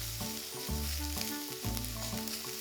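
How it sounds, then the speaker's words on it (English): Garlic sizzling in a pan with softened onions, a close steady frying crackle with faint stirring scrapes and no talking. "so I'm going to add to that the garlic. Cook that off for a few seconds before you add anything else."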